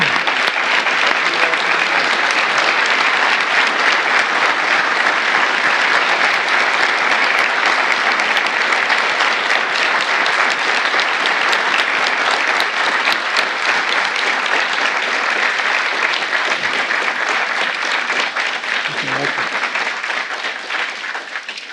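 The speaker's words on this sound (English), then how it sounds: "let's give one last big round of applause to the recipients of the" An audience gives sustained, dense applause for Medal of Valor recipients at a formal ceremony, loud and unbroken for about twenty seconds before fading slightly near the end.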